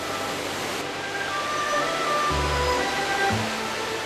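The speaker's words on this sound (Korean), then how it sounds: "그 중에서도 가장 큰 볼거리는 3단 폭포로 이루어진" The three-tiered Sandiequan waterfall on Mount Lu pours with a constant broad rushing roar, steady and unbroken, with a few brief low tonal sounds passing underneath.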